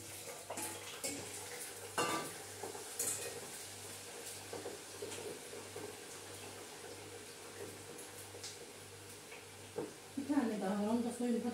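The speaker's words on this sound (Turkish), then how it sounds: "Patates kızarttım onlara." Soft sizzling of potatoes frying in a pan, with occasional clinks of utensils and stirring; a voice speaks briefly near the end.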